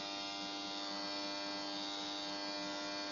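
A cheap airbrush spraying paint at around 20 psi gives a steady, even buzzing hiss of compressed air, constant and close for a few seconds with no pauses.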